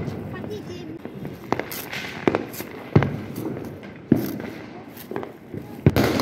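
Several sharp firecracker bangs pop irregularly during Diwali over a noisy outdoor background with people talking, some bursts louder and closer than others.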